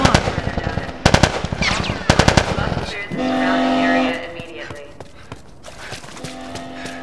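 Video game gunfire from The Last of Us: bursts of rapid automatic shots in two quick volleys, loud and close, followed by game sound effects, tonal cues and shouted voices.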